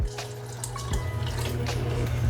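Water from a can poured into a pot of diced onion and sliced garlic for Puerto Rican pernil, a steady close splashing gush running for a couple of seconds.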